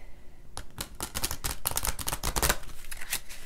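Close, rapid papery flicking of stiff, thick tarot cards being shuffled sideways, a dense run of crisp ticks and slaps lasting a few seconds.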